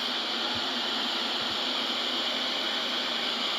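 Falling water from a waterfall pours in a dense, even roar, close and constant, with no talking over it.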